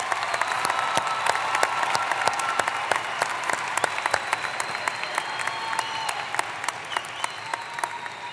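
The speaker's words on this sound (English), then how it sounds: "How about another round of applause for all of our master's degrees?" Sustained applause from a large audience at a university spring commencement ceremony, dense steady clapping filling the hall for several seconds with no talking over it.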